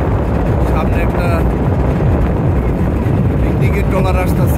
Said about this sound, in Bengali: পিকনিকের ট্রলার আসতেছে